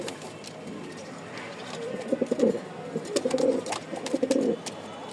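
A flock of pigeons kept for sale coos close by in repeated soft, throaty bursts, with scattered clicks and flutters around them.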